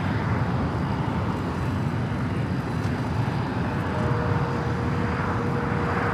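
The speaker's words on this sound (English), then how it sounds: "Condor are going to be taking off on the north side" A Condor airliner takes off from the north side at Los Angeles International Airport, a steady, even, broadband engine roar heard from a distance with no voices.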